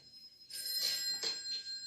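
A telephone bell rings indoors, a bright electronic trill starting after a short silence and sounding in two or three pulsing bursts at moderate volume, with no talking.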